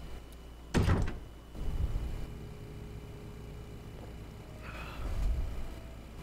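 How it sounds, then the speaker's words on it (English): Door opening in the Resident Evil HD Remaster game: a loud, sharp burst early on, followed by a longer low rumbling swell and a softer mechanical sweep near the end, with no speech. "Go through the fucking door!"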